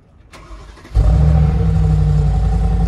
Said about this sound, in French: tu appuies sur le start qui est à droite